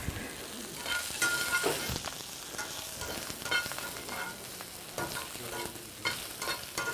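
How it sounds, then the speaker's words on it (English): Field greens crackle and sizzle steadily in hot olive oil, with occasional stirring scrapes and clatters of a utensil in the pan. "I'm going to go back to my olive oil because I just want a little bit more. And you hear sizzle."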